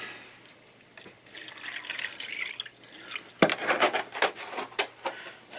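Water running into a cheap ultrasonic cleaning bath, a splashing, dripping pour that starts softly, then grows louder and more uneven in bursts near the end, heard close up with no talking.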